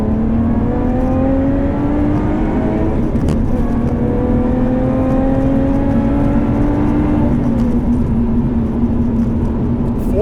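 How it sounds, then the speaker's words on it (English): A 2018 Lotus Evora 410 Sport's engine pulls hard while driving, its pitch climbing steadily through a gear, then dropping and rising again, loud and constant with no talk. "the Evora 410 Sport is glorious"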